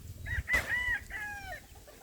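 A rooster crows once, a clear rising-then-falling call over faint background noise, with a short burst of rustling near the start.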